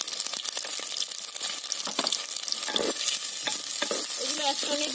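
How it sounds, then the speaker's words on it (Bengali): Chopped ginger and garlic sizzle steadily in a hot pan, with repeated scraping stirs and a few metallic clinks throughout. "এগুলো একসঙ্গে ভেজে নিচ্ছি।"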